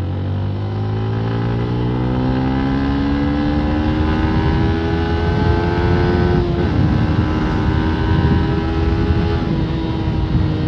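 A Yamaha Sniper 155R motorcycle with about 14,000 km on the odometer revs up loudly and close, its engine note climbing and then holding a steady high drone while riding, with a brief dip partway through.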